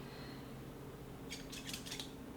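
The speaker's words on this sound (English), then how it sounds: "After that one, we're going to have our kitchen shears." Heavy-duty kitchen shears give a few quick, faint snipping clicks in a quiet kitchen, the short metallic cuts clustered together after a brief near-silent pause.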